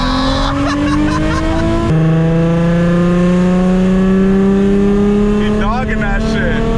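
A tuned Nissan 350Z with a 325 whp HR engine pulls hard at speed, its loud steady engine drone rising in pitch through a gear change while tires squeal briefly near the end.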